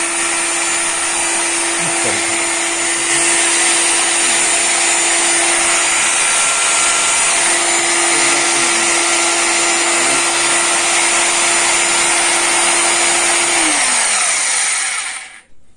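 A WONDERCUT WCGP-2-26 rotary hammer drill, locked on by its switch, runs continuously with a loud, steady motor whine for about fifteen seconds before winding down and stopping at the end.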